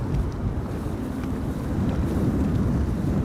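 Strong wind at Amsterdam Schiphol Airport during Storm Amy, a steady loud roar buffeting the microphone with continuous low rumble and no pauses or voices.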